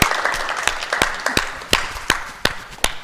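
An audience at an evening talk on state citizenship gives a final round of applause, a dense burst of many hands clapping with distinct loud individual claps standing out, fading gradually over a few seconds.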